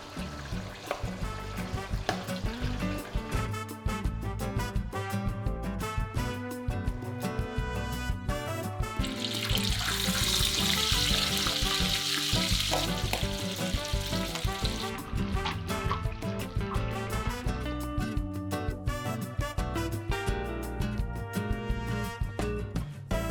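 A continuous, busy sizzle and crackle of pork belly deep frying in hot oil, loud and close, swelling briefly midway with a hissing rush.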